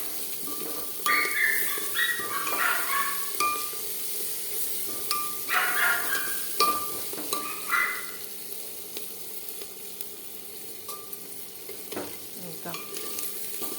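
A spatula stirs potato and spinach sabzi in a pan, scraping and clattering in several bursts over a soft background sizzle, with quieter pauses between the stirs.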